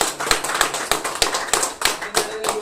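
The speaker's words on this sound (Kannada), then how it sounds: "ಎಲ್ರಿಗೂ ಕೂಡ ಜೋರಾದ ಚಪ್ಪಾಳೆ." A small group claps in brisk, regular beats in an office, a short close burst of applause with no voices over it.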